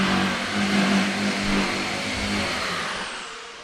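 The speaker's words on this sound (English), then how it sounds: "Sorry about the construction noise, guys." Construction work nearby with a running engine, a loud continuous rumbling drone that swells and eases slightly before fading toward the end, no voices.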